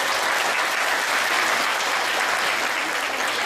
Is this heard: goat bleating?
no